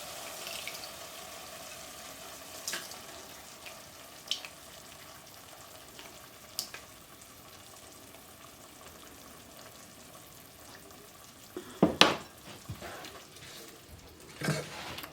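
Ground beef with pepper frying in a pan for pizza topping, a steady close sizzle throughout, broken by a few clacks of a stirring utensil and a louder scrape and clatter near the end.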